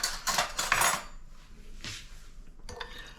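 A spoon clinks and scrapes rapidly against a bowl of warm water and milk as sugar is stirred in, a loud burst followed by a few lighter taps, close by, with no speech.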